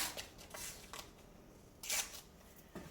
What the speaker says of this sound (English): So let me pull off a piece of tape now.